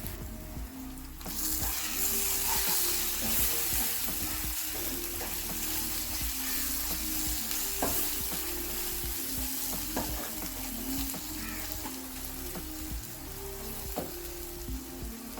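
A frying fish curry base with cumin powder and chili stirred into hot oil: a steady, close sizzle with repeated scraping stirs that runs for the whole stretch and is heard alone.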